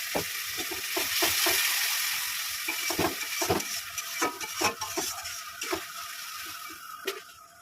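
Spicy crab curry masala paste frying in a pan, with a little water added: a steady, close hissing sizzle overlaid with frequent scraping and tapping stirring strokes, and no voices.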